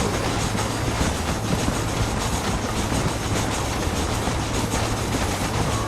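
A train in the Red Dead Redemption video game passes close and loud, a continuous rumbling roar with steady clattering of wheels on rails and no talk.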